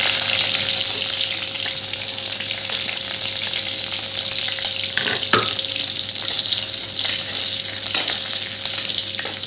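Green chilies frying in hot oil with sesame and cumin, a steady loud sizzle that carries unbroken through the clip with a brief clatter midway.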